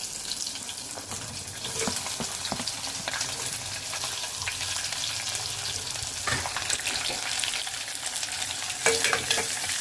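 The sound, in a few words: onions frying in a pan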